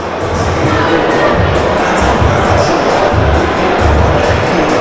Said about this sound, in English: packed house here inside the Hoops Basketball Centre